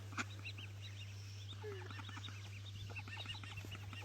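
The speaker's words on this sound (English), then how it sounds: "Being attacked by ducks." A cluster of ducks quacks repeatedly inside an angler's fishing bivvy, rapid overlapping calls close by and fairly steady throughout, with no talking.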